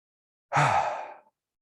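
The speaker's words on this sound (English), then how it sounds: "I'm going to invite you to take a big breath in and good. One more, breathing in. Long, smooth breath in." A single deep, smooth inhale taken during a guided breathing exercise, close and clear, swelling quickly and tapering over about three-quarters of a second before stopping.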